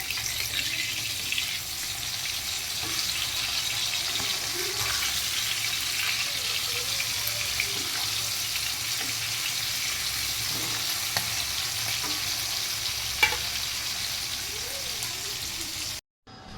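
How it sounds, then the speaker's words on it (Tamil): Fish frying in a pan of oil in a home kitchen, a steady close sizzle and crackle that holds evenly, with faint scrapes and stirring, then cuts off abruptly at the end. "சிக்கன் கிரேவிக்கு தண்ணி கொஞ்சமாக ஊற்றி வச்சு மீன் வறுத்துட்ருக்கேன்."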